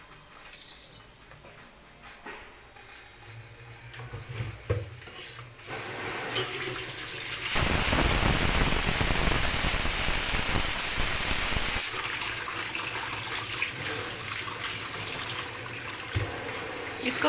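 Hot water gushes from a tap into a bathroom, a loud broad rushing stream that starts after some quieter clicking and handling, then settles into a softer flow, with no talking.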